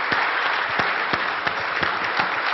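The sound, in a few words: standing applause for Doyle Brunson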